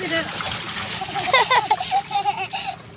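Water splashes and sloshes as someone bathes in a cold river, with irregular splashes under excited voices of adults and children talking nearby.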